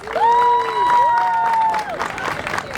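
Audience applause for a Passaic County freeholder at a Palestinian flag raising at Clifton City Hall, brief clapping under a sustained cheer and crowd voices, fairly loud and close.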